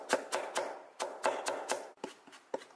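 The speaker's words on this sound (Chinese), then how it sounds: "准备几颗蒜子，用刀给它拍扁，然后再给它切成蒜末" A kitchen knife mincing flattened garlic cloves on a cutting board gives a series of quick, close taps in an uneven rhythm, fairly quiet, with no talking.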